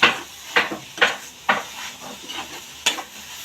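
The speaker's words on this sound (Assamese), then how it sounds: "লাগি যাবলৈ দিব নালাগে বস্তুটো, খুব লৰাই থাকিব লাগে।" Banana stem pickle cooking in a pan while being stirred steadily, giving a series of close, rhythmic scraping strokes over a soft frying sizzle, with no talking.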